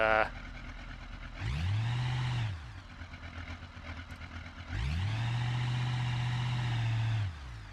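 In the BeamNG driving game, a car engine with a slipping transmission revs up twice in long droning surges, dips to a rough idle between them, then cuts off after each sustained pull.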